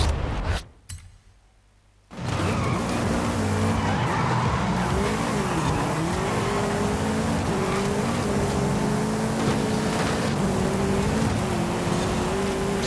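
A default, untuned car in Forza Horizon 5 drives with a steady engine drone and long squealing tire skids, loud and continuous after a brief quiet gap at the start, with no talking.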